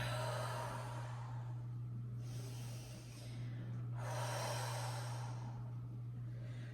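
Slow breathing during a yoga forward fold, two long airy exhales in succession over a constant low electrical hum, close and soft.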